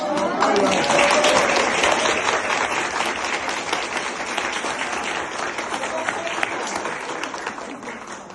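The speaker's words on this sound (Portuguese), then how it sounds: "Eu queria que a gente desse um aplauso para vocês que ajudaram a formar" Applause from an audience at an educators' meeting, a dense burst of clapping that starts strong and slowly thins, with some voices mixed in.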